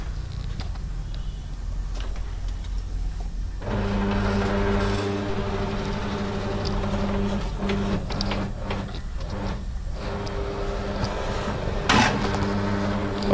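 A tire being mounted onto a 15-inch wide Vossen-style car wheel rim on a tire-changing machine at a shop, giving a steady mechanical hum with intermittent clunks and scraping bursts, close up, with no talking.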